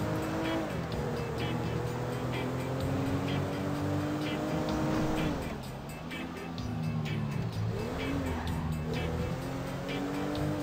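A pick-up truck drives in GTA V, its engine a steady, close hum that rises and falls as it revs, dipping briefly midway before picking up again, with faint tire and road noise.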